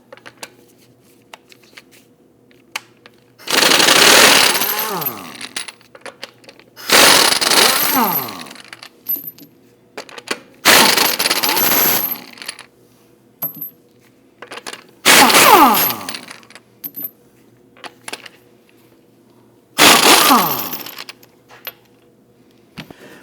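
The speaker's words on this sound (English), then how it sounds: "Using a 19mm socket, we want to get loosen and remove the lug studs." A 19mm socket breaking loose and spinning off the lug bolts on a Volvo XC60 front wheel, five separate loud bursts of rattling impact-wrench noise a few seconds apart, with quiet stretches between them.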